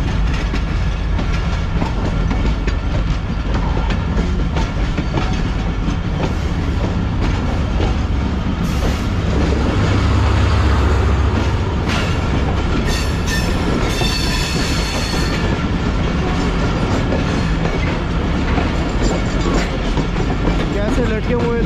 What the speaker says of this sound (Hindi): ये 34 डाउन आ रही है बिल्कुल हमारे सामने से।